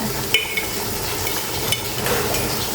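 A spoon stirs Thai panang chicken curry with pumpkin in a pan, giving a continuous scraping swish over a soft sizzle, with a few sharp clinks against the metal.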